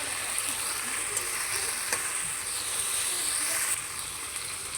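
Fried fish pieces go into a pan of cooked spice paste for a fish curry with ridge gourd, and a steady close sizzle and frying hiss carries on without a break, with faint stirring clicks.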